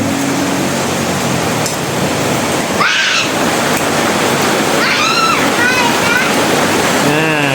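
Heavy rain pours in a dense, steady roar throughout, with a voice and a cat's meows rising over it.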